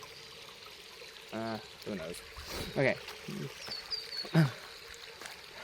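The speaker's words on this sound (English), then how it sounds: "little waterfall" Small waterfall stream trickling and pouring in the woods, a soft steady wash of water running under a man's speech throughout.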